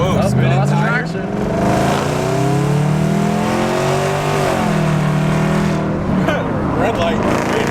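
A race car's engine revs and roars loudly while its tires spin and lose traction under acceleration, the pitch rising and falling in waves, with voices speaking over the din.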